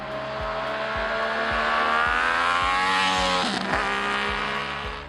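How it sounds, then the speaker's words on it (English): Classic three-cylinder motorcycle engine screaming at high revs, a piercing rising wail with rapid gear shifts and brief dips in pitch, loud and close throughout. "a high-pitched, screaming three-cylinder wail that will send shivers down your spine"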